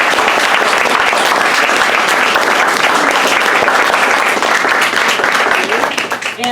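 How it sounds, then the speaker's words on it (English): Loud, sustained applause for readers and performers at a literary event in the Brown Building, dense clapping from a crowd that tapers off near the end. "If I could get one more round of applause for everybody."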